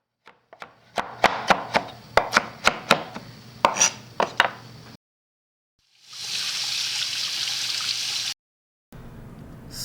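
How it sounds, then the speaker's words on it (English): Spinach being grated by hand for muffins, a run of sharp, close rhythmic scraping strokes, followed by a steady rushing hiss after a short pause. "What you do is you grate your spinach, just about a handful for the whole recipe"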